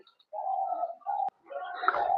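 Three short, hoarse, rasping calls from a European quail with a cold come in quick bursts, close and fairly quiet, with brief silences between them.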